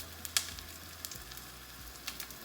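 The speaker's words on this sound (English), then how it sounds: "Just sear a little bit on that outside edge" Black-peppered ahi tuna searing in a hot pan, a faint steady sizzle with a few brief sharp crackles and pops; quiet and close, no talking.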